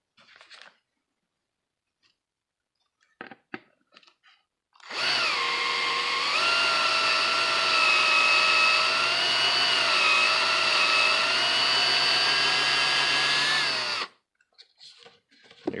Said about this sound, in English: I'm just simply going to drill into this until that plastic ring is completely gone.